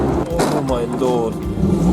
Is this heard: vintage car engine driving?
yes